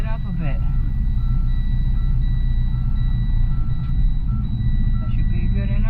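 A truck backs up with its reversing alarm beeping steadily and evenly throughout, over a loud, constant engine rumble close by.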